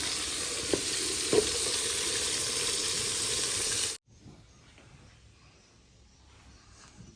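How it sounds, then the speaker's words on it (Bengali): Poa fish bhuna sizzles loudly in a hot pan, a steady close hiss and crackle of frying that cuts off sharply, leaving only faint kitchen noise afterward. "পোয়া মাছ ভুনা করব, আর হচ্ছে বেগুন আলু দিয়ে শুটকি।"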